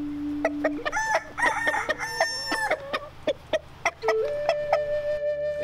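A rooster on a probiotic farm crows loudly and nearby while hens cluck in short, sharp bursts around it, with a steady low hum underneath.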